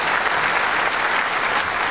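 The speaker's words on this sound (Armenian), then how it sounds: "մի հատ լավ ծափարեք" An audience claps in sustained, dense applause, loud and even for under two seconds with no pauses or talk.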